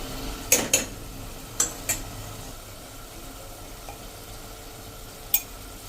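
A spoon stirring pav bhaji masala into cooked tomatoes in a pan, several sharp scrapes and taps against metal over a faint low sizzle, close and without talk.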